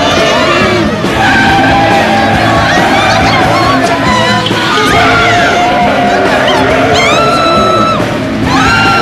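A bus speeding downhill without brakes, loud tires squealing and skidding continuously over engine roar, with shouting and crowd-like yells mixed in throughout.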